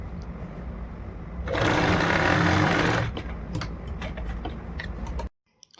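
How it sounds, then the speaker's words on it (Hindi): Sewing machine stitching a seam on a skirt, a steady, loud mechanical whirr for about a second and a half, then scattered ticks and clicks before a sudden stop. "आप एक सिलाई को कंप्लीट कर लीजिएगा।"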